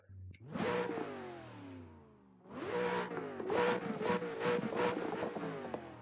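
A Corvette engine in Assetto Corsa revs hard twice, rising and falling in pitch, the second burst longer with rapid throttle blips and raspy crackle.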